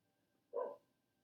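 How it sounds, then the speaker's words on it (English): One short, soft dog bark sounds from another room of a home office, a single muffled woof in near silence. "Sorry about the dog barking."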